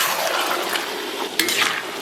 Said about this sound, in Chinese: 然后把洗好的牛蹄筋给它下里边，继续给它反复煸炒一下